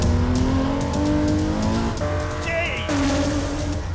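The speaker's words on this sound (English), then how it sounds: "The 5-litre 12-cylinder engine produces 621 horsepower" A Porsche 917 racing car with a 5-litre 12-cylinder engine drones loudly and continuously, its pitch climbing through gears with brief shifts, close and alone without talk.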